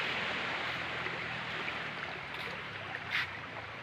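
A small stream flows into the sea at a secluded beach, a steady broadband rush of running water and surf close by, continuous with a brief louder splash near the end.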